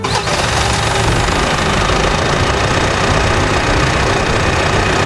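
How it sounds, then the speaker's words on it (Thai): A 2016 Mitsubishi Pajero GT Premium 4WD with its original engine runs close by, a brief burst at the start settling into a steady, even idle with a low rumble. "เดี๋ยวเราไปฟังเสียงเครื่องยนต์กันเลยดีกว่า"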